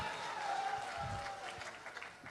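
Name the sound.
audience applause at live comedy stage show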